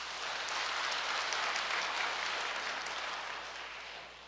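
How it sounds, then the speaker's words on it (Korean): Applause from an audience at a Korean religious gathering, a steady wash of clapping that holds evenly throughout and eases slightly toward the end, with no voices over it. "박수 한번 쳐드립시다."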